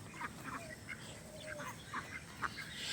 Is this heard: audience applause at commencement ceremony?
no